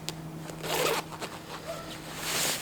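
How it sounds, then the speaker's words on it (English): A jacket zipper on a Carhartt Full Swing jacket pulled up in a few quick rasping strokes, close by, with a short pause between pulls. "And it zips up nice, like I showed earlier."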